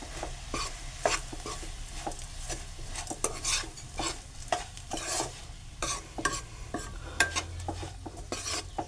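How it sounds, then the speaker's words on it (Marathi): A spoon stirs chickpeas and other ingredients in a cooking pot, producing repeated close scrapes and clinks against the metal in an uneven rhythm over a faint sizzle, with no voices. "हे पाय तसेच चण्याचे पण सुद्धा मी ह्याच्यात टाकतो, ते पण आपण ढवळून घेऊ"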